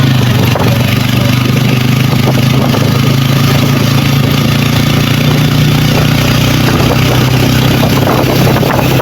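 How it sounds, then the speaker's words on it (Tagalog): A family's motorcycle engine idles close by with a loud, steady, even rumble that holds unbroken for about nine seconds and has no voices over it. "So yan, ayan po yung motor ng isa kong anak."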